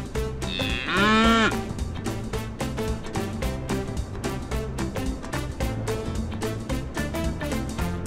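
A cow in an animated short film moos once, loud and close, early on over a steady backing of upbeat rhythmic music with regular percussive beats.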